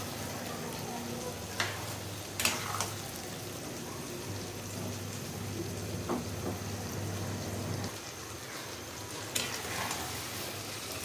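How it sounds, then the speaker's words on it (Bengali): Chalta pickle with sugar is stirred in a frying pan, a continuous soft sizzle broken by a few scraping knocks of the spoon against the pan, fairly quiet and close. "এখন এটারে আমি ভালো করে লাড়াচাড়া দেব"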